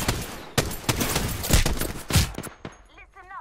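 Rapid gunfire bursts crackle loudly and up close in the Apex Legends video game, a dense fusillade of repeated shots followed by a short electronic chirping tail.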